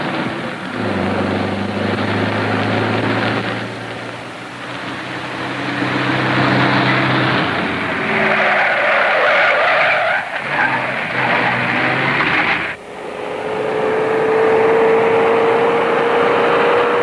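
Stock car sound effect from a 1941 radio drama: a loud engine roar with long screeching tire skids that swell and cut off, then a rising whine, all near and continuous without talk.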